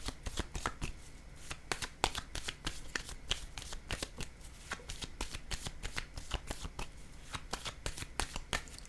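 Tarot cards being shuffled by hand, a close, quick run of crisp riffling flutters and taps repeating steadily throughout.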